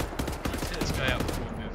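Assault rifle gunfire in the shooter game Wolfenstein: The New Order, a quick burst of rapid, evenly spaced shots at moderate loudness.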